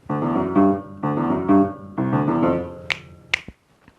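Two sharp finger snaps pop out near the end, following a steady, humming musical tone that fills most of the clip.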